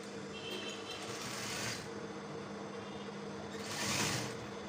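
Sewing machine running a stitch on a camp collar shirt, a steady mechanical whir that surges in two bursts of faster stitching, close and quiet with no talk.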